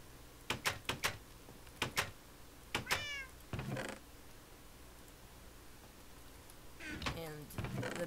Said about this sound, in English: And the meowing really annoys me.